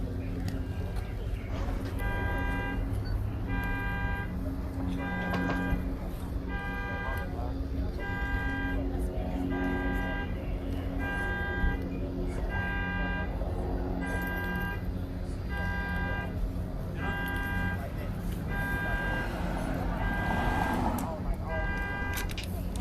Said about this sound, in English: up with that dude's car alarm